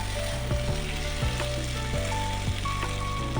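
Tandoori chicken sizzling in a covered pan near the end of cooking, a constant close crackle and hiss with small popping bursts and no talk.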